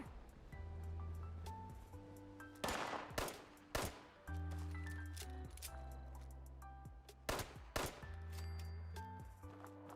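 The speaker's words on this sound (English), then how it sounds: "Who's shooting at me?" Gunfire from enemies shooting at the player in Fallout 76 comes in several sharp bursts over a layered in-game music and ambient bed, moderately loud, with no voices.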